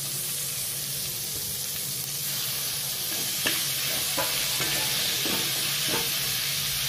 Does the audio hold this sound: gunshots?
no